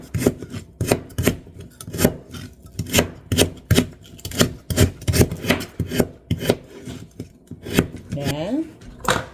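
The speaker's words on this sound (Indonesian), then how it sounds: "iris ya daun bawangnya" Rapid, rhythmic knife strokes slice thin spring onions on a board, each cut a sharp crisp tap in a steady run of a dozen or more, up close and loud, with a brief utensil scrape near the end.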